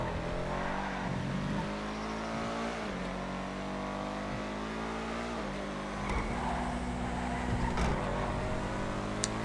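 Engine of a Schlagen GT race car in GTA FiveM, a steady close-up roar that climbs through repeated gear shifts, rising and dropping in pitch over several seconds with faint tire noise.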